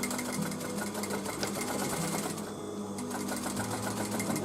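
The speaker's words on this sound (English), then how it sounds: "Now this time I am going to do some back stitches just to finish up the edge." A sewing machine runs steadily, sewing back stitches along the edge of a scrap-fabric velvet dolly bag, with a continuous close whir and a brief dip in the motor sound partway through.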